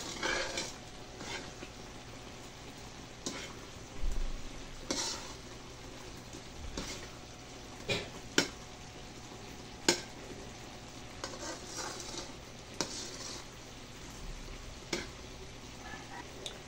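Coconut milk caramelizing in a pan for Filipino biko gives a soft, steady sizzle. A utensil stirs and scrapes now and then, with occasional sharper taps against the pan.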